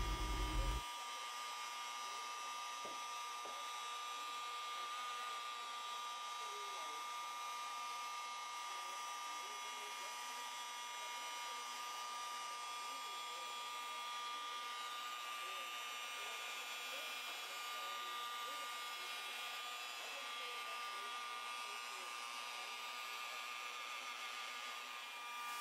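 A rotary polisher buffs car paint with Turtle Wax 1 & Done, a continuous whirring motor drone that stays steady and moderately loud for the whole stretch, with no talk over it.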